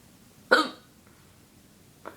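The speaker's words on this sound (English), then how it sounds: "my hiccups can go on forever" A single sharp hiccup from a person, close and fairly loud, followed after a pause by a fainter second hiccup.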